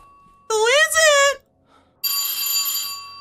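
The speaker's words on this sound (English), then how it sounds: "Somebody answer the goddamn phone." A telephone rings in the horror video game At Dead of Night, giving a bright, tonal burst of ringing followed by a short pause and a second, steadier ring, loud and close.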